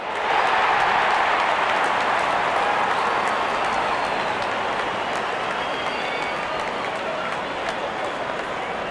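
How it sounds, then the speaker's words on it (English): A large crowd at an India vs England T20 cricket match keeps up steady applause and cheering as the openers walk out, a broad continuous roar. "Out come the openers, cheered by a good crowd in"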